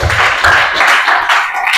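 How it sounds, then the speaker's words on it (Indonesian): A classroom group applauds: a short burst of dense hand clapping, fairly loud and close, lasting under two seconds with no talk over it. "Tepuk tangan dulu."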